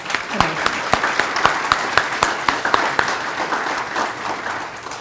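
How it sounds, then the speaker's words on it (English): Scattered clapping from an audience at an employee recognition and awards ceremony, individual claps distinct and fairly close, moderate and steady for several seconds. "Let's give a round of applause to those."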